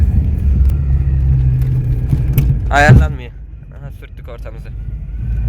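A Tofaş Şahin car rumbles and rattles steadily over an uneven, stony road while a person speaks briefly in the middle.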